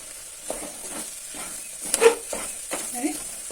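Chili powder, coriander powder and garam masala fry in a little oil with a soft, steady sizzle, broken by a few spoon scrapes and stirring knocks against the pan.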